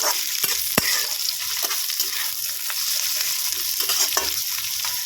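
Chopped beans and carrots are stir-fried in a hot pan for hakka noodles, giving a steady bright sizzle with scattered scrapes and clicks of the spatula, close and alone with no talking.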